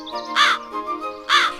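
A crow in a cartoon story caws twice, loud and close, the harsh calls spaced about a second apart over a soft, sustained musical background.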